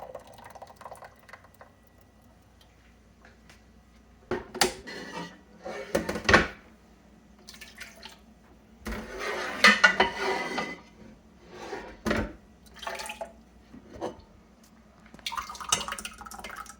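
Cooked blue crabs and their water poured from one pot into another over a tray, giving bursts of splashing, dripping liquid and knocking shell and metal clatter in uneven clusters.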